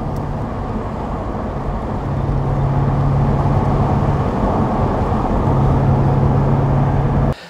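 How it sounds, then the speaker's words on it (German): A 2001 BMW Z8 roadster with a V8 engine drives by, its steady, loud low drone holding throughout with a slight swell partway through and cutting off abruptly at the end. "8-Zylinder, der schiebt wirklich richtig an."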